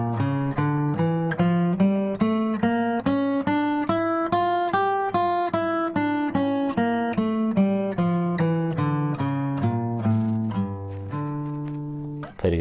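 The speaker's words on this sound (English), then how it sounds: "it opens with the use of a D harmonic minor scale" Guitar runs through a D harmonic minor scale, the way the opening of a well-known rock song uses it, with single notes climbing and then descending in an even, steady rhythm, clear and close, without talk.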